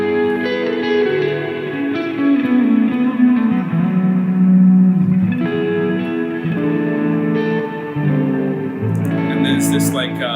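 An electric guitar plays a clean tone through its neck pickup with light reverb, ringing sustained notes and chords that overlap and fade. It is fairly loud and close, with no talking.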